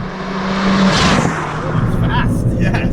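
A modified 2013 John Cooper Works Mini GP is driven hard, its engine note rising and falling loudly close up, with a faint tire squeal and a voice talking briefly over it.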